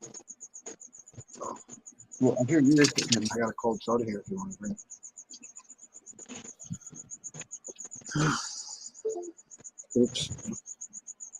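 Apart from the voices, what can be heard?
cricket chirping indoors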